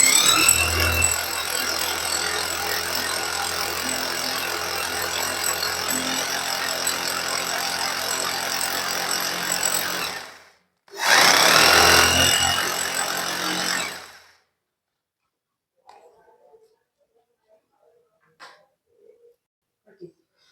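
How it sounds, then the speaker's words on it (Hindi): A power drill bores holes at marked spots on a wall during an outdoor installation at a technical institute: a loud, continuous whir for about ten seconds, a brief pause, a shorter second burst, then near silence with faint knocks. "तो चलिए मैं ड्रिल कर लेता हूँ पहले।"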